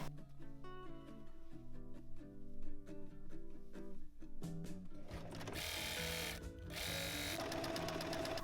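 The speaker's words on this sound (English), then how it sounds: "Next we're going to sew together the two back panels on the side." A sewing machine runs steadily, stitching two back panels of trousers together, first with quieter separate stitching bursts and then a louder, faster continuous whir, close by and with no talking.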